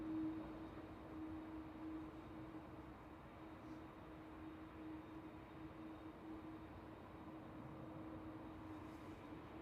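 A TUI Boeing 737-800 airliner lining up for departure at Manchester Airport, a faint, distant, steady engine rumble with a low hum, no voices.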